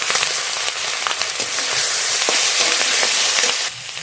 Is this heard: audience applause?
no